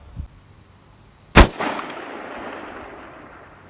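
A rifle fired at a target 900 yards away outdoors: a single loud, sharp gunshot crack followed by a long rolling echo that slowly fades, preceded by a faint small click.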